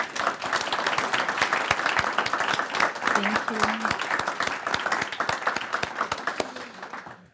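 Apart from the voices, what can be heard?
audience applause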